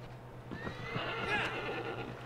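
A horse in the video game Shadow of the Colossus lets out a loud, drawn-out whinny that rises and trembles over about a second and a half, preceded by a few muffled hoof-like thuds, with no speech over it.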